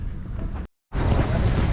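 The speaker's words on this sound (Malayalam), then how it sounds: "അപ്പോൾ നമ്മുടെ ബോട്ട് വന്നിട്ടുണ്ട്" A boat arriving at night on the water for a fishing trip, heard as a steady loud rumble of engine and wind noise, broken by a short silent gap before the roar resumes.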